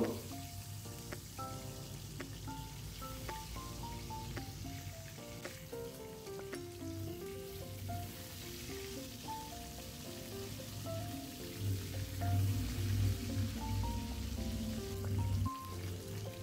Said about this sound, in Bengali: এগুলোকে আমি ফ্রাই করব, তার জন্য আমি কড়াই বসিয়ে দিয়েছি। দিয়ে দেবো সরিষার তেল।